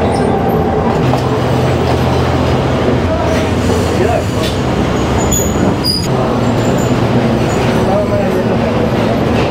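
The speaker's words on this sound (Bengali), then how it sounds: "এখানে আরেকটা ট্রেন দাঁড়িয়ে আছে" A passenger train on the Sri Lankan hill line from Nanu Oya to Ella rumbles loudly and steadily close by, with people talking over the continuous rolling noise.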